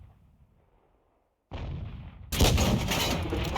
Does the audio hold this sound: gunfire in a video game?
yes